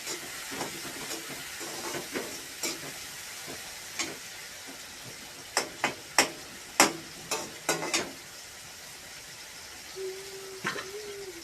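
Tomatoes fry in a pan over a gas flame in a village kitchen, with a low steady sizzle broken by a run of sharp clinks and scrapes from stirring, then a brief tonal whistle near the end.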